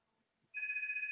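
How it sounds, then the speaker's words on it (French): A mobile phone starts ringing partway in with a steady, trilling electronic tone that warbles and lasts to the end, close and clear in a quiet room. "excusez-moi, c'est mon téléphone"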